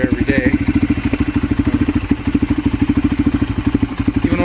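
A 1997 Honda TRX 300EX ATV idles on a cold start with an oil seal leak, its single-cylinder engine chugging in a fast, even, loud putter with a mechanical clatter throughout.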